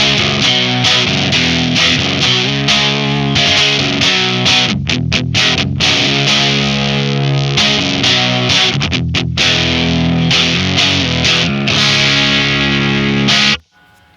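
Electric guitar played through a Swamp Witch Silver Birch Overdrive pedal set for a mid-scooped tone, with raised lows and highs. Thick, loud driven chords and riffs ring continuously for the whole stretch, then cut off abruptly at the end.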